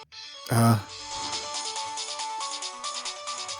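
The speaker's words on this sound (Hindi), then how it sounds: "किसी का फोन है शायद।" After a short loud thump, an electronic phone ringtone plays a repeating melodic pattern, steady and moderately close, in a Hindi-dubbed action film.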